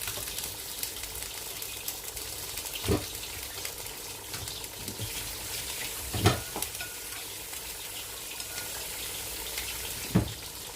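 Egusi soup being stirred in a pot gives a steady bubbling simmer, broken by a few distinct scraping knocks of the spoon against the pot.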